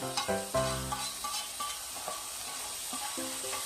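Tofu sisig mixture with plenty of onions tipped into a hot pan, a sudden sizzle and scrape as it lands, followed by steady soft frying and stirring clinks up close without talk.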